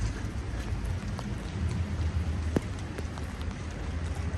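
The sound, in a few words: rain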